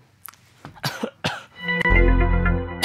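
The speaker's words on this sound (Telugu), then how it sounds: "ఏంటి దగ్గుతున్నా?" A person coughs several times in short, sharp bursts close by, followed by a louder sustained tonal sound at the end.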